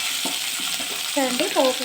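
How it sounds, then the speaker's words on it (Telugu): Cumin, mustard seeds and dried red chillies sizzling in hot oil for a tempering over peanut-coconut chutney, with a close steady hiss and a few soft stirring sounds. "జీలకర్ర ఆవాలు కొద్దిగా ఎండుమిర్చి వేస్తే బాగుంటుందండి"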